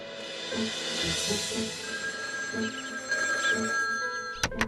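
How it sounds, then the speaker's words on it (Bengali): Cartoon telephone ringing for an incoming call, a repeating electronic ring pattern heard fairly close under a light musical background, ending with a couple of sharp clicks. "আমি বাড়ি ফিরেই মামাকে ফোন করছি"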